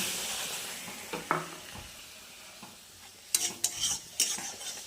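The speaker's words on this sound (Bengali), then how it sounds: "এখন এর মধ্যে আমি দিয়ে দিব সামান্য একটুখানি জল।" A soft sizzle as a little water is added to frying semolina in a pan, followed by several quick scraping stirs of a spoon against metal, close and fairly quiet.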